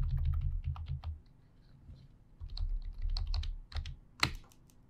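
Clicky computer keyboard typing close by, irregular bursts of keystrokes with short pauses and a sharper final tap.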